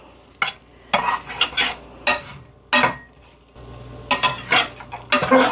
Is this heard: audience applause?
no